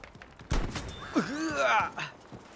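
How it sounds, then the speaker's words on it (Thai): Nearby gunfire in the Battlefield V video game, a sharp close burst of shots followed by rising, sweeping whistling tones and further thuds, with a voice speaking over part of it. "มีเสียงปืนอยู่ด้านหน้าเราด้วยนะครับ มันใกล้มาก ๆ"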